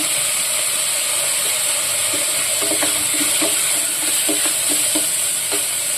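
Onion sautéing in a pan with curry leaves and turmeric, a steady close sizzle and hiss with scattered stirring clicks and scrapes of a spatula throughout, no voices.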